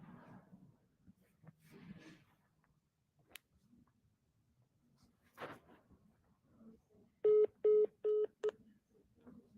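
A phone being dialed to place a call: after quiet rustling and handling noises, four clear touch-tone beeps sound in quick succession, close and distinct.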